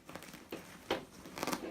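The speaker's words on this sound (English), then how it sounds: "So you unzip right here" A canvas camera backpack is unzipped, heard as a few short, close scratchy rasps and crinkles of fabric in quick bursts, with no talking.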